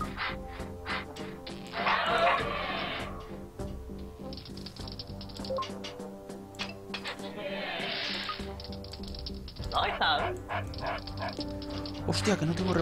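A dog barks in the construction-management video game Constructor HD, with short repeated barks over a busy game soundscape of clicks and music while someone talks.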